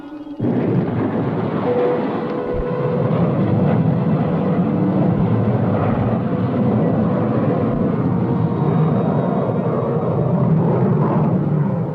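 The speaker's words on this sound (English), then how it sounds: "Firing retro rocket." A spaceship's retro rocket fires for landing in a radio drama, a loud, steady low roar and rumble that holds continuously from the start with little change, alone without voices.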